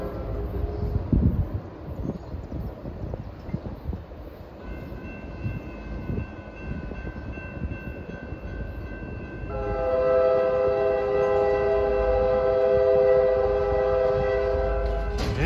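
A Norfolk Southern freight train rolls past on the Harrisburg Line west of Reading, with a steady rumble of cars. Its multi-tone horn sounds briefly, then blasts loud and sustained through the second half of the pass.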